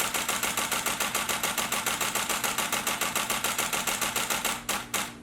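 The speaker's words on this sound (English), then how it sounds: "that thunderous 7 frame per second burst" A Canon 5D Mark IV camera shutter firing a continuous 7 fps burst, a loud, evenly spaced mechanical clacking repeated dozens of times close up, then stopping abruptly.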